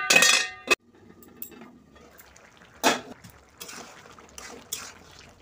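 Metal lid clinks onto a cooking pot of Bengali pui shak with hilsa fish heads, a few sharp clanks and rattles separated by quiet moments.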